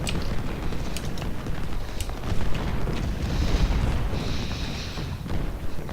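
Artillery fire rumbles through a Malvern Hill battle video game, a dense, continuous low booming bed with scattered sharper cracks and a heavier swell midway, loud and sustained throughout.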